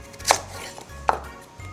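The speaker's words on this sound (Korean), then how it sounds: "그리고는 무를 4등분으로 썰어 주세요" A knife cuts a thick round of daikon radish into quarters on a cutting board, two sharp separate chops with a short pause between them, close and clear with no talk.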